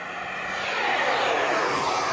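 Flyfans Gripen delta-wing RC jet with a 70mm electric ducted fan, flying past as a steady, broad whooshing roar that swells slightly and holds for about two seconds with no talk.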